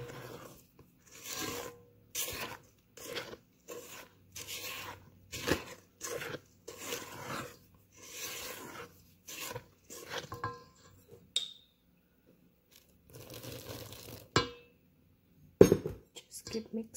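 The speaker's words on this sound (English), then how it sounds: "You want to stir it in batches, a little at a time, or half at a time" A spoon scrapes and rubs through cookie dough in a bowl as dry ingredients are stirred in, a rhythmic gritty scraping in short repeated strokes, fairly quiet, with pauses.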